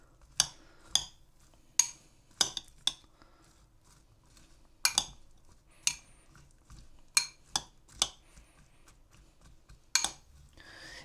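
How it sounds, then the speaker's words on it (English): Utensils clinking and scraping against a bowl while a mango chicken bowl is tossed, about a dozen sharp close-up clicks in uneven bursts over a quiet background. "Give this a mix."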